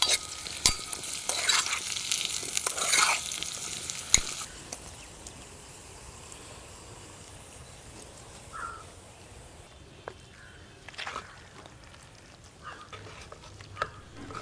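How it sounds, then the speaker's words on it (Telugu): Chopped garlic, ginger and slit green chillies frying in two spoons of ghee with kasuri methi for chole masala, loud stirring and sizzle at first, then fading to a faint, quiet simmer. "2 చెంచాలు నెయ్యి వేసుకొని వెల్లుల్లి ముక్కలు వేసుకుందాం."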